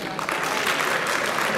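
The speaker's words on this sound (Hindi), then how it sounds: "भरपूर तालियां" An audience at a poetry mushaira claps steadily, a dense burst of applause from a crowd that holds at an even level for the whole moment.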